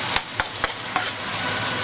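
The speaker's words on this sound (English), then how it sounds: "I am now going to add my tomato." Tomato hits onions sautéing over medium heat in a pan, the steady sizzle broken by a few sharp clacks of a spoon stirring, close and moderately loud.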